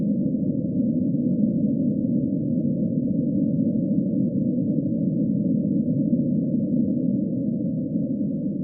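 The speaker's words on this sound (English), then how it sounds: "It's the sound of the cosmic microwave background." The cosmic microwave background, the afterglow of the Big Bang, transposed into audible sound becomes a steady, muffled, low hissing drone that holds unchanged throughout with nothing else heard.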